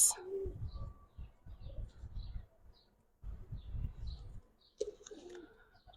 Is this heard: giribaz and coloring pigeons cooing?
yes